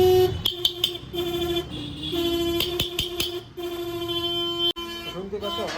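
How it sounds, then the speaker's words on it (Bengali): A weak horn on a Kawasaki ZX-10R sport bike gives several short toots and a few longer sustained beeps, fairly close, while a person talks in between. "শুনতে পাচ্ছ হর্নের আওয়াজটাও খুব কমে গেছে"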